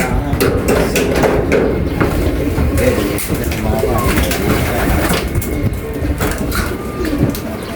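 Pigeons coo in their new home, soft repeated cooing at close range, mixed with flapping and shuffling and a person talking.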